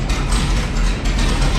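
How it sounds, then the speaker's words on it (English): A mud truck's starter motor cranks the engine, a loud, steady mechanical whirring and grinding that runs unbroken for about a second and a half, with no one talking. "let's see if starter works."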